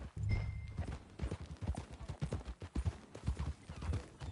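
Horse hooves clip-clop at a steady walking rhythm in Red Dead Redemption 2, close and clear, with a brief faint tone early on and no talk.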